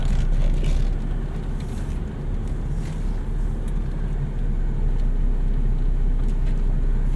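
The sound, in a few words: 1991 Honda Civic Si EF hatchback driving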